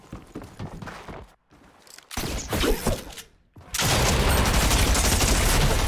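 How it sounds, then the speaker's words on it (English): Rapid gunfire in Fortnite no-build play rattles off in dense bursts, first sparse and choppy with short gaps, then a long, loud, sustained volley close up. "Why are you shooting me the whole time?"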